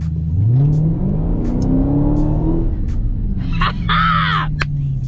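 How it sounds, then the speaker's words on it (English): A Dodge Hellcat launches at full throttle, its engine roaring loud and close as the pitch climbs steadily over several seconds, with faint voices in the background. "And then launch. Apply full throttle."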